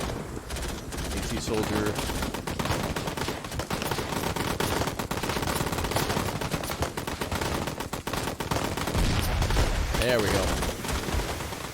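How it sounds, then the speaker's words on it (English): Dense machine gun bursts and scattered gunfire from a modern-warfare battle in the real-time strategy game Call to Arms, rattling steadily throughout, with someone talking over the shooting. "Get somebody on that machine gun."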